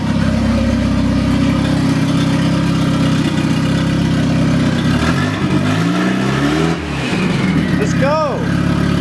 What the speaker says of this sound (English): we're gonna send it open down pipe for now and see how she boosts